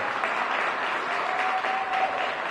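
Audience applause at a DC Council Black History Month celebration honoring a chorale, continuous even clapping from a large group that stays steady and moderately loud.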